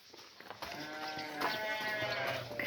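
Sheep on a farm bleat at feeding time, with several overlapping wavering cries rising from a noisy outdoor background, close and fairly loud.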